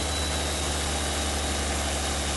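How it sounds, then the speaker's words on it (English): An Allison V12 aircraft engine runs on a trailer-mounted dyno at a steady, loud, dense roar, heard close with constant vibration and no break or talking. "let's just listen as Cory starts this Allison V12 engine"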